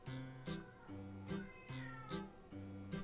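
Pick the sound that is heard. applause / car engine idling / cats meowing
cats meowing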